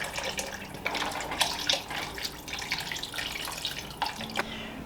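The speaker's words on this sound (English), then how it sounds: "Next we're going to add in some beef broth." Beef broth pours into a pot with a close, continuous liquid splashing and trickling that rises and falls over a few seconds, no talking.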